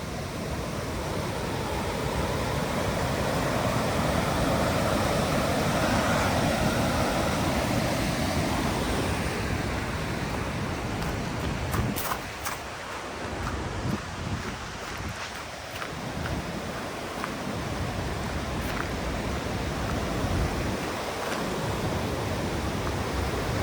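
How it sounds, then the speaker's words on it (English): A river flows steadily beside a road on the drive from Te Anau to Milford Sound in New Zealand, making a broad, continuous rushing wash with a few faint knocks and shifts in the later part. "You guys can hear the sound of the river."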